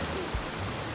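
Heavy rain pours down in Boracay, a dense, steady hiss of falling water with a brief thud partway through, loud and continuous with no talking.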